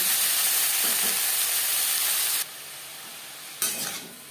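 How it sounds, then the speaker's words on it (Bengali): Snake gourd (chichinga) frying lightly in oil makes a continuous hissing sizzle. It drops suddenly about halfway, then bursts back briefly before fading, with no talk over it. "তিন চার মিনিট চিচিঙ্গা হালকা করে ভাজা হয়ে গেছে"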